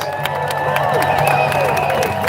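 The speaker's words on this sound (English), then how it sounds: "Let's give that round of applause again to the beautiful voices" Crowd at a No Kings street rally in San Diego applauds and cheers for the San Diego Women's Club Choir, a steady wash of clapping and voices with lingering sung or shouted tones, fairly loud and continuous throughout.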